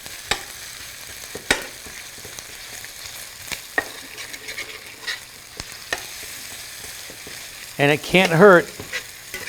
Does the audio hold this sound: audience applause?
no